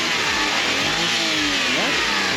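A mini van's engine revs hard in repeated bursts, its pitch sweeping up and falling back over a steady mechanical drone, loud and close with no talking.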